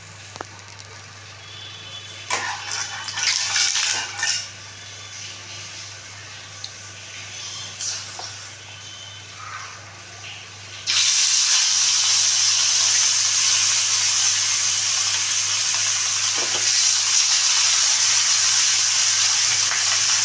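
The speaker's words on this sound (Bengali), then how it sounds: "আমি মাছটা ভেজে নেব" Katla fish goes into hot oil for a Bengali curd curry, setting off a loud, sustained hiss that starts suddenly partway through and holds steady after a quieter stretch of scattered kitchen clatter.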